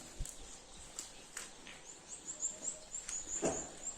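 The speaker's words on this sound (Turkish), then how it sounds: "Görüyor musunuz kuş seslerini?" Birds chirp and tweet intermittently in the background in Sarıca, Develi, Kayseri, after snowfall, high and thin, with a faint outdoor ambience and a few soft thumps.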